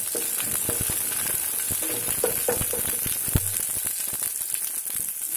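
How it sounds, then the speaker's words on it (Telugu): Onion fries in hot tempering oil for palak kadi, giving a dense, continuous crackling sizzle up close with small stirring pops and no voices. "వేసి ఇలాగ వేయించుకోవాలి."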